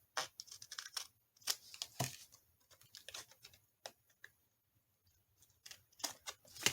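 Scissors trimming the edge of a paper journal page, with a string of quiet close snips and crinkly paper rustles coming in uneven bursts.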